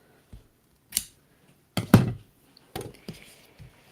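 Scissors trimming the ends of rose stems for a red rose bouquet, several distinct crisp snips spaced apart, close and fairly quiet, with no talking.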